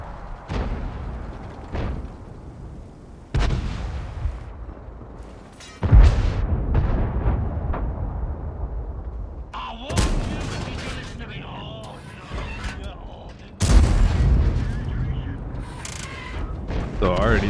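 Tank cannon shots from the Bisonte C45 in a video game: several heavy booming blasts spaced a few seconds apart, each followed by mechanical reload clatter, with someone talking throughout.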